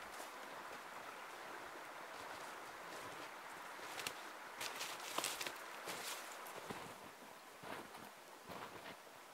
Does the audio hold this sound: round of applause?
no